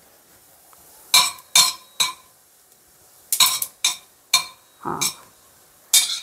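Cumin seeds dropped into hot oil in a pan crackle in a handful of sharp, separate bursts, each a brief crisp pop or splutter with quiet gaps between, close by and fairly loud, with one short spoken word.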